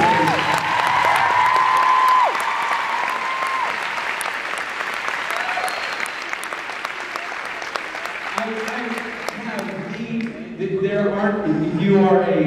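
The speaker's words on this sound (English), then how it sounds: "Round of applause for the people in uniform." Convention panel audience applauding people in uniform, a loud, sustained wash of clapping from a large indoor crowd with some cheering, fading near the end as voices return.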